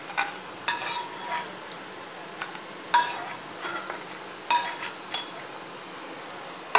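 Wheat flour being stirred and roasted in ghee in a pan for halwa, with a spoon scraping and clinking against the metal in irregular strokes and light bursts over a soft background hiss, near and moderately quiet, no talk.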